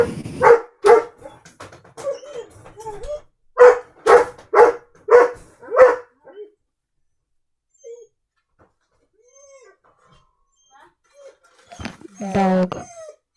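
Dog barking in a burst of about a dozen sharp barks over the first six seconds, fairly close and loud, followed by quiet and a short stretch of talk near the end.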